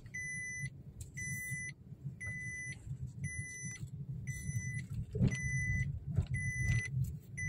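A repeating seat belt warning chime beeps at a steady rhythm, about once per second, over the low rumble of a 2023 Maruti Suzuki WagonR VXI engine idling inside the cabin.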